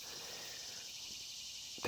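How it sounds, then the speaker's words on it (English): Cicadas drone outdoors in a continuous, even, high-pitched buzz that holds steady throughout, faint and distant, with a brief bump of noise right at the end. "those cicadas are going crazy."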